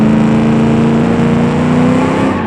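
A heavy 300-horsepower land-yacht car built in the Automation game revs loudly and steadily, its engine droning with a sustained harmonic tone throughout and no talking.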